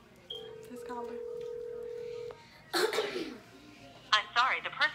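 Telephone keypad dialing tones for a prank call, a steady tone lasting about two seconds, followed by voices talking and laughing nearby.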